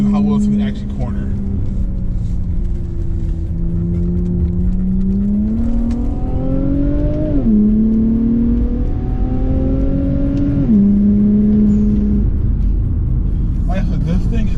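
A 2016 Infiniti Q50S Red Sport 400 driving a curvy road, its engine droning loudly and rising and falling in pitch through several gear shifts and throttle changes, with steady road and wind noise.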